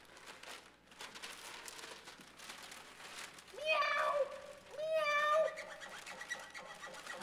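A house cat meows twice from a backyard wall, two drawn-out, rising-then-falling calls a second apart that stand out clearly over a quieter, continuous background.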